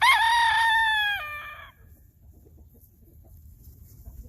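A Barred Rock and Sapphire Gem cross rooster gives one clear crow, close and loud, with pitch that falls at the end. Faint low background noise follows.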